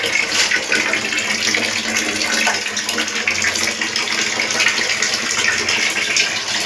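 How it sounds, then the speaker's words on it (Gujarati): Water gushes steadily from a newly fitted Bajaj 3-litre geyser, a continuous close, loud rushing splash into a basin with no speech over it. "મિત્રો પાણી આવી ગયું છે."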